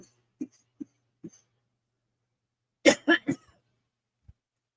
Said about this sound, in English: Sorry, don't mean to cough in your ears.